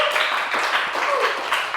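Students in a religious-studies classroom applaud a correct answer, a short burst of fairly loud, dense clapping from many hands nearby.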